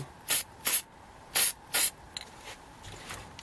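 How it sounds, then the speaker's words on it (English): A can of spray paint fires four short, sharp hissing bursts in two quick pairs, close and loud, followed by fainter clicks and rustles. "Alright, so I mean that's all we're going to just spray."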